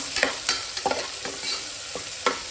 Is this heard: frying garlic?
yes